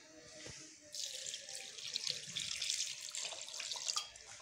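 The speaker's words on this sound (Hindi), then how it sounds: "तो अब डालती हूँ इसमें पानी।" Water poured into a pot of village-style desi chicken curry, a steady splashing, running pour lasting a few seconds at close range, with no talking.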